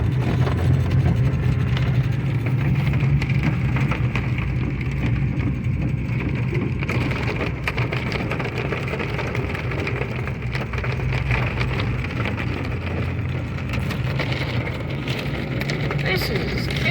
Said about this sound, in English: reporting hail at 104th and Hero